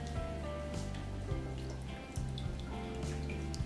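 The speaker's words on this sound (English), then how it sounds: "take 3 deciliters of the double cream, pour it down to the pan" Double cream poured into a pan, a soft continuous liquid splatter and dribble with faint drips, close and quiet, no talking.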